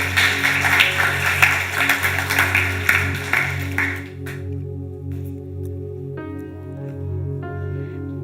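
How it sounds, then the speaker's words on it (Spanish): A church congregation breaks into loud, dense applause that fades out after about four seconds, leaving a sustained organ-like musical tone. "Démosle un aplauso al Señor por su palabra, por favor."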